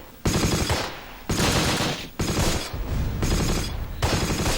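Machine gun fire in a Close Combat video game, loud sustained bursts of automatic fire in about four long volleys separated by brief gaps, dense and close.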